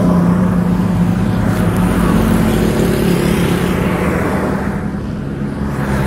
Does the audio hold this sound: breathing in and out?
no